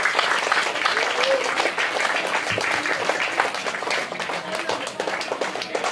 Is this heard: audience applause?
yes